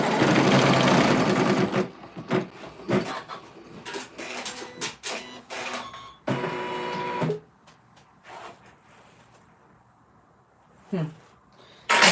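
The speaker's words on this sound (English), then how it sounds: "Now it's going to sew" A domestic sewing machine stitching fabric with white thread, running in fast buzzing bursts of rapid needle clatter separated by pauses and handling noises, close and fairly loud.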